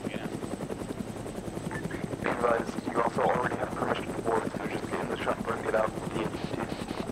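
Huey helicopter in a military video game: a steady, loud rotor thump throbs throughout while several voices talk over it.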